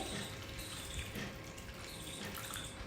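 Water pours steadily with a soft splashing rush, close by and fairly quiet, filling a bowl of poha (flattened rice) without any talking.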